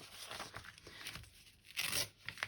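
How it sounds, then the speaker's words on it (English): Wrapping paper being ripped by hand indoors, with short crinkly tearing bursts and a sharper, louder rip near the end, all fairly quiet and close. "Wrapping paper. You can't rip wrapping paper"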